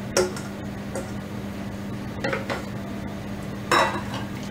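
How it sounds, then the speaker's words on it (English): Steamed vegetables tip into a pan for pav bhaji, a few clattering scrapes and spoon knocks against metal over a low, steady stovetop hum, with quiet gaps between them. "Now we are going to add this steamed vegetables."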